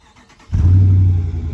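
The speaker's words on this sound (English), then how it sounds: "Let's get this cold start in real quick." A Dodge Charger cold-starts with a brief crank followed by a loud, deep engine catch that settles into a strong, steady idle rumble.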